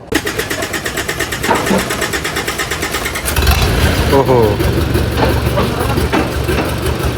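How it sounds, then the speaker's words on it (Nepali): A truck engine with one failed cylinder (number four) cranks and catches partway through, then runs loud and rough with an uneven, tractor-like chug, while people talk over it. "ट्र्याक्टरको जस्तो आवाज आयो भर्खर त"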